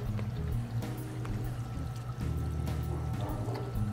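Water from a pump gushing into a jug during a flow test of an Emperor Aquatics Smart UV 40 watt install, a loud steady pouring rush with a low hum underneath and a brief dip partway through.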